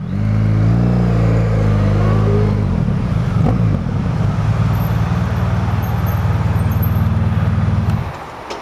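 A large Triumph Explorer motorcycle rolls up close, its loud engine note shifting as it slows, then idling steadily before cutting off near the end.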